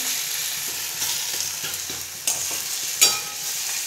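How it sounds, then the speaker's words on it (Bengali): Onions fry in a pan with a steady, close sizzle, while a spoon stirs and scrapes through them in a few sharper clacks. "এখন পেঁয়াজ ভাজা হচ্ছে।"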